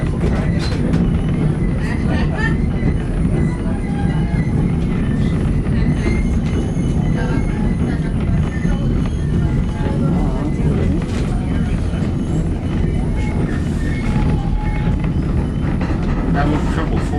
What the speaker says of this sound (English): Fine time for that train to be going in front of us.